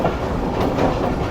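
A train rolls in toward Sukkur railway station on a foggy winter journey, its wagons giving a loud, steady rumble with faint clattering of wheels on the track.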